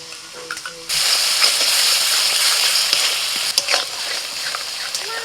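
Spiced masala in a home kitchen pan bursts into a loud, steady sizzle the instant about four spoons of salted whisked yogurt are added, with hissing steam and a few stirring clatters continuing throughout.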